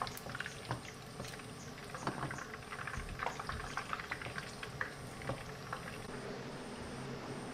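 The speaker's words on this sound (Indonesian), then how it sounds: "kita masak sayap ayamnya sampai matang ya" Chicken wings bubbling and frying in a pan of hot oil, a dense steady sizzle with crackling pops that carries on throughout.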